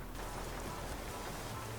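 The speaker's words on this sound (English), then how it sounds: "And on a very rainy day" Steady rain drums on a truck cab in Euro Truck Simulator 2, a continuous broadband wash with no breaks, moderately loud and close throughout.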